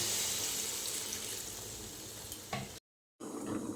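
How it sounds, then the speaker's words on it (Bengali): Water poured into hot oil in a wok for chicken curry, a loud steady hiss and sizzle that cuts off abruptly, then resumes more quietly. "এবার আমি কড়াতে তেল বসিয়ে জলটা দিয়ে দিলাম।"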